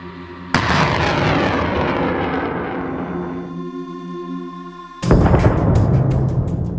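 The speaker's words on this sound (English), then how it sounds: "Within moments, a GPS-guided rocket was launched with high precision" A HIMARS GPS-guided rocket launch: a sudden loud roaring blast that rushes and fades over a few seconds, followed by a second sharp burst of roar near the end, with no talk.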